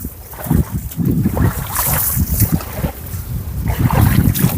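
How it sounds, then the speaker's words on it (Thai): Strong wind gusts across a fishing spot in Yala, Thailand, buffeting the microphone with a constant rough, low roar that swells and eases in uneven surges. "ก็ลมแรงมากนะครับเพื่อนๆ"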